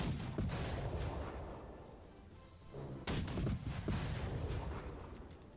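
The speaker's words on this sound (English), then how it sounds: "Enemy cannon." Napoleonic-era cannons fire in the Peninsular War strategy game Victory and Glory Napoleon, giving several heavy booming blasts at irregular intervals with rumbling decay between them and no speech.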